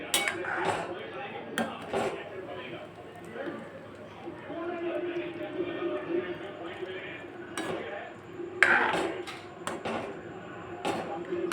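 Besan gatta curry ingredients are mixed in a pan, a spoon clinking and scraping against the metal with scattered taps and a few sharper knocks under steady background speech.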